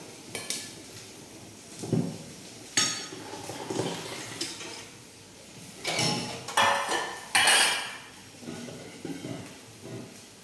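Dal water is mixed into boiling rasam in a home kitchen, with metal pot and utensil clinks and clatters, scraping stirs and a few louder knocks spread unevenly, close and on their own.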